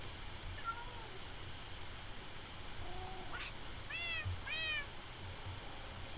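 Two short meows from a cat in the Minecraft video game, rising and falling a few seconds in, moderately loud over a low steady background hum.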